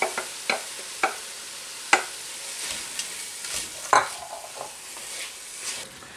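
Shredded cabbage sautéing in a pan for a one-pot cabbage noodle dish, with soft sizzling under repeated sharp scrapes and clacks of a stirring utensil against the pan, close and alone.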